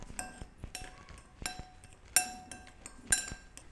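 A spoon clinks and taps against a bowl as spices and salt are mixed in, giving sharp, ringing strikes at an irregular rhythm with softer scrapes between them.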